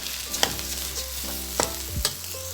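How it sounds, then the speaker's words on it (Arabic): A spoon stirs rice with spices, mint, onion and butter in a hot pan, giving scattered scraping clinks over a light sizzle, close and untalked over. "انا قلبت بقى الرز في التوابل والنعناع والبصل والزبده"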